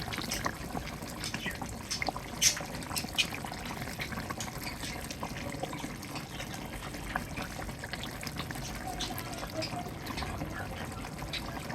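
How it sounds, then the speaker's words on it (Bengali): Pieces of hilsa fish slip into a simmering curry, giving a steady low bubbling and wet sputter with a few brief splashy accents, a continuous moderate-level simmer heard close up. "তরকারি হয়ে গেছে, মাছগুলো দিয়ে দেবো।"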